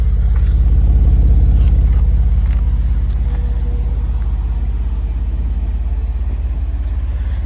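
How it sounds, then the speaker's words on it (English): A 2010 Jeep Wrangler Sahara idles with a steady, deep exhaust rumble, low and continuous throughout, recorded close with no one talking. "Just hear that little exhaust rumble."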